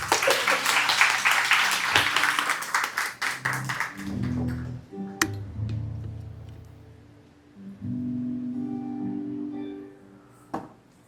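A church congregation applauds loudly at first, dense clapping that thins and fades into scattered claps over a sustained organ-like tone, with a final sharp clap near the end.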